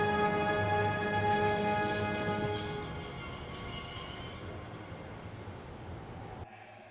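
A train in the video game Broken Sword rumbles past with high, steady metallic squeals and tonal whines over a low rolling roar, gradually fading before cutting off near the end.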